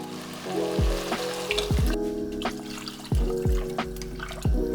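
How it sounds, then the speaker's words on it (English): Loud sizzling and frying in a pot, with splashes and hissing bursts as about six cups of water are poured onto hot browning chicken for Vietnamese chicken noodle soup. "And now we're going to add in water."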